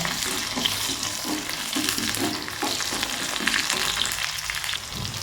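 Crushed green chillies sizzle steadily in hot oil in a pan for a curd curry, a close, continuous frying hiss with soft periodic stirring pulses and no talking.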